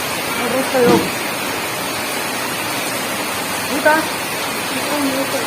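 A steady, dense roar of heavy rain fills the scene as voices speak briefly over it.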